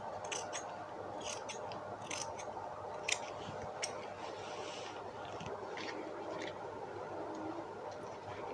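Scissors snip through fabric being cut for a dress, a series of crisp close clicks and slicing strokes in an irregular rhythm over a steady low hum, with no talking.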